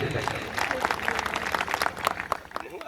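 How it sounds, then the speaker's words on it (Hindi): Audience applause at a Hindi stage talk, a dense, steady wash of many hands clapping close by, with some voices mixed in. "एक बार इनके लिए भी तालियां बजा दीजिए।"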